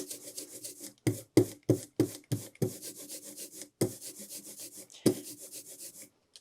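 Excess ink being rubbed off a printing block by hand, a series of close, dry scrubbing strokes in quick bursts with short pauses between, heard alone.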